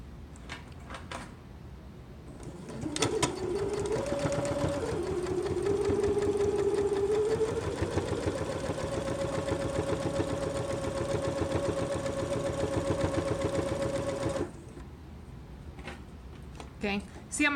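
A sewing machine stitches fabric for a zipper pouch, running in one steady, whirring burst for roughly eleven seconds after a brief start, then stopping; a voice talks briefly before and after the run.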